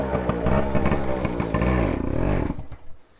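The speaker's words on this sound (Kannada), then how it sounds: "ಇವಾಗ ನಮ್ ಚಿನ್ನು ಗಾಡಿ ಸ್ಟಾರ್ಟ್ ಮಾಡೋಣ." A TVS Suzuki Samurai motorcycle engine starts and runs close by, with a loud, steady, throbbing idle and a few revs. It cuts off abruptly near the end.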